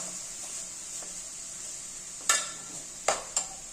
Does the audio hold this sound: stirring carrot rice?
yes